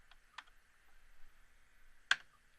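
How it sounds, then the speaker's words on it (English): A few sparse keystrokes on a computer keyboard entering a command in Rhino, quiet and close, with a sharper final key press like hitting enter. "type in the word what and hit enter"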